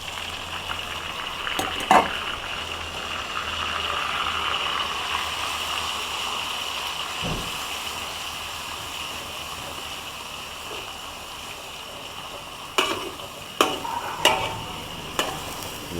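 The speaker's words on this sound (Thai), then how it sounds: "ใส่กระเทียมผัดให้หอมนะครับ ใส่หมูนะครับ" Garlic and pork stir-fry in a pan, a steady close sizzle with a few sharp clinks of a utensil against the pan, mostly near the end.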